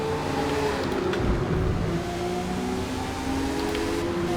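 Ferrari Monza SP2 engine in Forza Motorsport 2023, a steady loud drone with held tonal engine notes through the whole stretch and a brief swell near the middle, alone without talk.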